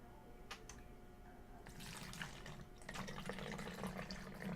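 Windshield washer fluid pours through a small funnel into a 250 ml bottle, a soft steady trickle and splash that grows fuller partway through, with faint background hum.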